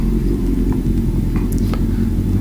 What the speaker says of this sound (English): It drives under its own power, and this is the first time I'm driving a bike since last fall